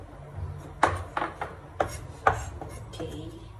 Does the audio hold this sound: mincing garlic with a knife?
yes